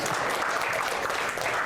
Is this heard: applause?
yes